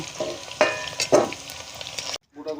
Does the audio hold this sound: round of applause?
no